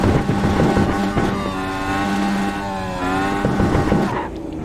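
A Dallara DW12 IndyCar in the iRacing sim at Laguna Seca, engine held on the pit limiter, giving a steady, loud buzzing drone with fluctuating pitch before a brief drop near the end.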